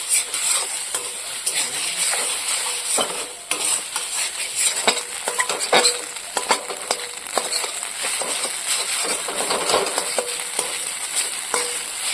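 Scrambled egg bhujia from two beaten eggs sizzles in a kadai while a spatula stirs and scrapes it in quick, irregular strokes, with occasional clinks against the pan throughout.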